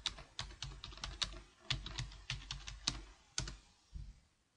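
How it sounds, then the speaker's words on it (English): Keys clatter on a computer keyboard in a quick, uneven run of close, crisp taps and a few heavier strokes, with no talk. "simply type in broken link checker"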